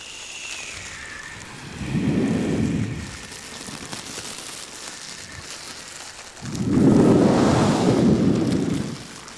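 Rain and thunder roll through a storm effect, two long, loud rumbling swells of thunder over a steady hiss of rainfall, heard alone without talk.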